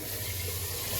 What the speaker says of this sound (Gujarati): એ જ વાટકાથી આપણે આ પાણી નાખશું, આ 1 વાટકો।